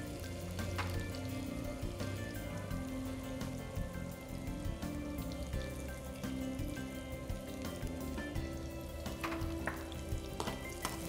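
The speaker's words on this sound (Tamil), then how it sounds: "வெங்காயம் நல்லா ஃப்ரை ஆனதுக்கப்புறம்" Big and small onions frying for pepper chicken, a steady dense sizzle running unbroken throughout with faint clicks of stirring, close and fairly loud, no speech.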